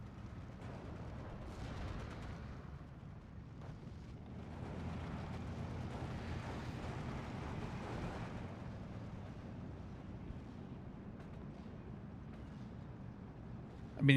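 Rocket artillery from a Calliope launcher in the World War II strategy game Steel Division 2, heard as a steady, rumbling barrage of distant blasts that rolls on for the whole stretch with no talk over it.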